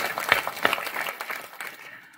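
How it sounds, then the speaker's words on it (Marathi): A gathering at a Shiva devotional week event in a village claps together, a dense burst of hand claps with a couple of sharp peaks early on, steady through the middle, then thinning and fading away at the end. "बघा आत्ता टाळी वाजवा"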